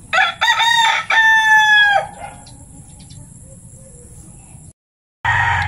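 A chicken crows and clucks loudly up close in a rural yard, a few strained calls in the first two seconds, then quiet before a brief burst of clucking at the end.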